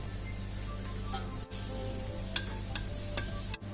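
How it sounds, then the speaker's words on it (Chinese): Chinese toon leaves are blanched in boiling water, giving a steady close hiss and bubbling with a few small clinks and splashes over a few seconds. "炸香椿鱼儿之前用开水把它烫一下"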